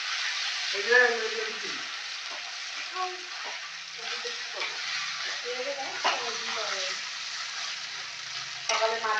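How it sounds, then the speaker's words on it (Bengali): Half a fish head sears in spiced oil in a pan, a soft steady sizzle running beneath intermittent scraping and stirring, with a voice or other tonal sounds drifting in at moments. "মাছের হাফ মাথাটা ওর মধ্যে দিয়ে দিলাম, দিয়ে এর সঙ্গে মশলার সঙ্গে মাথাটা কষাই দিলাম।"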